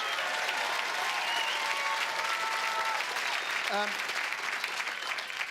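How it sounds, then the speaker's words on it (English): A studio audience at a football grand final television show claps steadily for the Bond, a dense, continuous wash of applause with a brief faint tonal sound near the end. "give the Bond a big round of applause"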